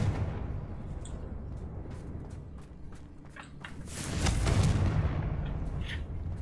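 A Confringo fire spell is cast in Hogwarts Legacy: a rumbling fiery blast swells about two-thirds of the way through, over a constant low game ambience and a few sharp clicks.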